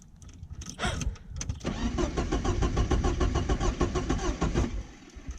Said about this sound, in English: Jason's starting a 944